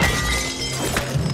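Object smashing in the video game It Takes Two: a single loud shattering crash with glassy breaking debris, short and up close.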